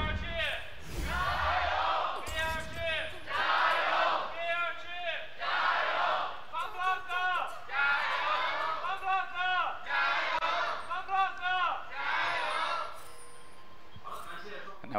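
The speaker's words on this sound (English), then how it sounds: "Time to hear from the crowd on FPX versus Bilibili Gaming." Arena crowd at an LPL esports match between FPX and Bilibili Gaming cheering and chanting in loud rhythmic waves, with shouted calls rising and falling steadily throughout.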